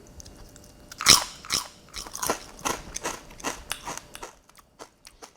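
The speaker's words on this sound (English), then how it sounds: "the crunch of that potato chip is fantastic" Sharp, close crunches of someone biting into a potato chip, one loud first bite followed by a run of quick chewing crackles that thin out toward the end, with no talk.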